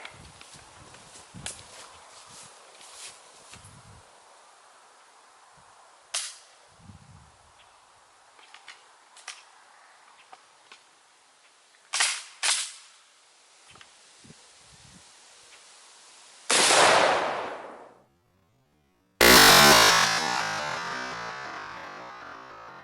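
A Magnum shotgun slug is fired at Level 4 body armor outdoors. After scattered footsteps and small knocks there is a loud blast, then a brief dropout, then a second sharp, very loud report with a long echoing tail.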